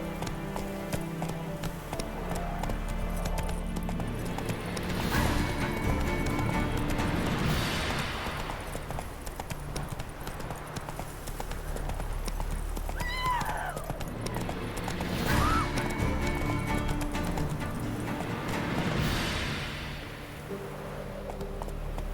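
Roach, Geralt's horse in The Witcher 3, trots along with a steady, clear clip-clop of hooves over a constant ambient game backdrop, with a brief snort or whinny now and then.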